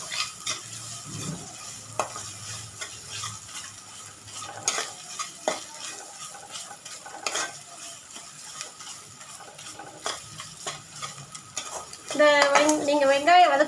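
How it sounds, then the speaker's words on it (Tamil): Ginger, garlic and onion being sautéed in a pan for green chicken cooked in ghee: soft sizzle under repeated scraping and clinking of a spoon against the pan, with someone talking near the end. "இஞ்சி பூண்டு நல்லா அந்த பச்சை வாசனை போகிற வரைக்கும் நல்லா வதக்கி விட்டுக்குங்க"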